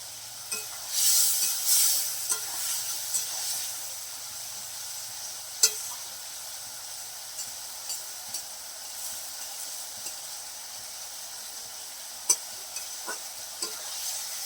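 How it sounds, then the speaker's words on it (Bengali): Fish goes into a wok of boiling gravy for a bitter gourd, potato and fish curry. A brief, bright hiss rises early, then softer bubbling follows, dotted with a few sharp utensil clinks. "আমি এবার এই কড়াইয়ের মধ্যে মাছ দিয়ে দিচ্ছি"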